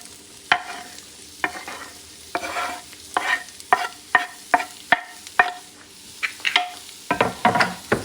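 Mirepoix vegetables fry in a pot with a low, steady sizzle while a utensil stirs them, giving repeated sharp scraping clacks against the pot at an uneven pace, close up, with a denser flurry of scrapes near the end.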